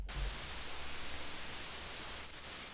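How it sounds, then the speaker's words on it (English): White noise from the VCV Rack virtual modular synth hisses as a steady, full-band static wash, loud and unbroken with no one talking. "So this is the white noise."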